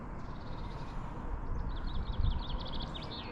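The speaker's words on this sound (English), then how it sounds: "to hear the birds chirping and wildlife" Distant birds call repeatedly in quick bursts over a steady outdoor hum near Stirling Old Town Jail, faint and far away.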